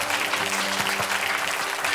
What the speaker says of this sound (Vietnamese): hãy dành cho họ một tràng pháo tay nào